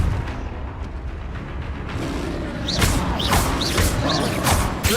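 Confringo fire spells cast in Hogwarts Legacy, a series of sharp whooshing blasts and crackling impacts, several in close succession, loud over a low rumbling battle background.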